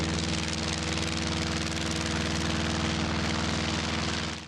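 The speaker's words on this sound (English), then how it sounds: "brought a neat little airplane" A model airplane engine drones loud and close at a steady, buzzing pitch at a racing event, holding constant for several seconds before starting to fade at the end.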